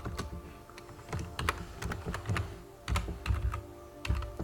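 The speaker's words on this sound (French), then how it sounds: "je suis obligé de confirmer par un mot de passe, mon mot de passe d'ouverture de session" Someone types a password on a computer keyboard, producing a rapid, uneven run of close, crisp key clicks and taps throughout, with no talking.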